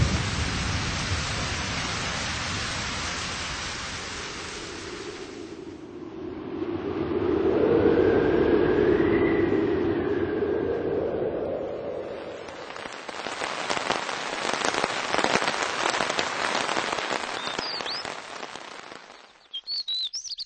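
Radio drama sound effects of a rain shower with thunder: a steady loud hiss of rain, then a rumbling swell of thunder, followed by crackling pattering bursts, with no talk.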